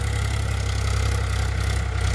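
Powertrac 439 Supermaxx tractor engine running steadily at constant revs while driving a rotary tiller, a loud, close, even diesel chug with a throbbing low rumble.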